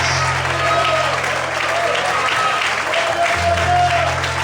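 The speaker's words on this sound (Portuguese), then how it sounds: "aplauda e exalte o Senhor em forte alegria" A church congregation applauds in a continuous, loud wash of clapping, with a low sustained tone from music or amplification running underneath.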